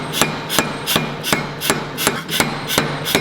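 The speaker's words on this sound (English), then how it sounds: "Let's turn on the power hammer and start forging." A power hammer strikes hot steel while a Viking battle axe is forged, landing ten loud, evenly spaced blows, about three per second, with a steady machine hum running beneath them.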